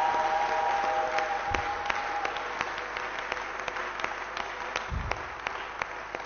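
A church congregation at a New Year service breaks into sustained applause and acclaim, a dense, even wash of clapping from many hands in a large hall, with a few scattered voices and thumps beneath it.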